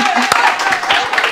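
Audience applause during a fallera mayor presentation at the Falla Mistral-Murta, a steady wash of clapping that fills the moment with a faint tonal hum running underneath.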